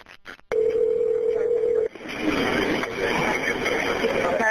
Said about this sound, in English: You're going to hear a dial tone in the phone ring.